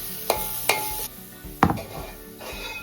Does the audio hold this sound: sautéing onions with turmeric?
yes